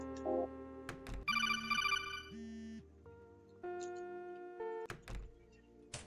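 A video game phone rings in short electronic bursts, a bright trilling tone that repeats a few times between thunks and other soft in-game noises, with no talking.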